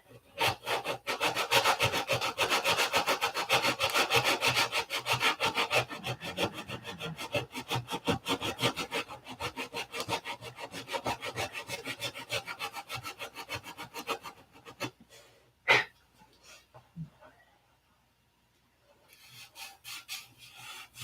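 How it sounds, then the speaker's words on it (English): Steady, rapid back-and-forth scratching of coarse 80-grit sandpaper by hand on wood for about fifteen seconds, close and loud, then stopping with a couple of faint knocks. "I just rounded the corner off so that when I'm sanding, it doesn't dig into"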